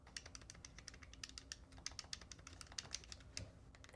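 Xbox Ally X handheld buttons pressed while still fitted with the original conductive pads, giving rapid irregular clacky taps in quick succession, close and quiet, with no talking.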